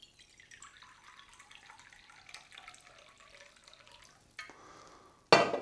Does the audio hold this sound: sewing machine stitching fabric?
no